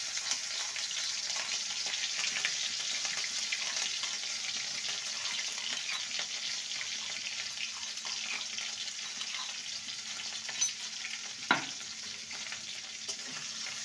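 Crushed ginger and green chili frying in a pan for a vegetarian brinjal dish, a steady broadband sizzle throughout with a few sharp clinks of a spoon stirring near the end; no talking.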